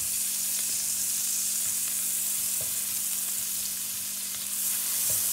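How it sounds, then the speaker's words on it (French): Butter melts in a frying pan with a constant soft hiss and fine crackle, a low steady hum beneath it and a couple of faint clicks, with no voices. "Je fais fondre le beurre légèrement."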